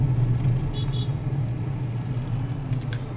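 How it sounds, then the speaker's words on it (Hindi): A car pulls into a parking lot near the Jwala Ji temple in Kangra, Himachal Pradesh. Its engine holds a steady low rumble, with a few faint higher sounds drifting in and out. "तो यहाँ पार्किंग में अपनी गाड़ी लगाएंगे हम"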